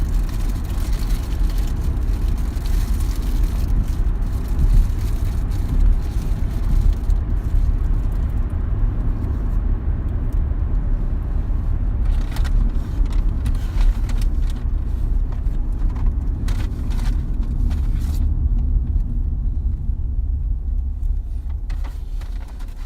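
A car drives home on the road, with a steady loud engine and tire rumble inside the cabin running throughout and no talking.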